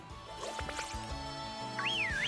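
A short in-game whistle sounds in Pokémon Sword, a rising and falling swooping tone heard near the end over steady game music and soft ambient effects, with no speech.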